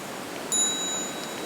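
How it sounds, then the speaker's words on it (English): A small meditation bell is struck once, giving a bright, clear ring that hangs and slowly fades in a quiet room. "maybe now we can listen to one sound of the small bell"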